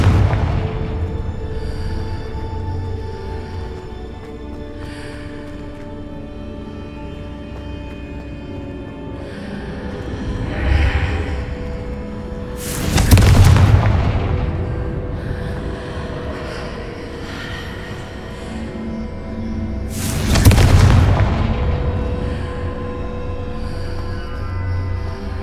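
Two loud blasts from the Confringo fire spell in the Hogwarts Legacy video game, each a sharp broadband boom with a rumbling tail, spaced several seconds apart over steady ambient game music and background hum.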